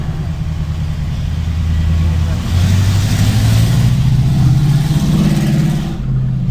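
Old car engine revving at a car show, a loud, steady low rumble with rising and falling pitch held for several seconds, with outdoor crowd noise around it.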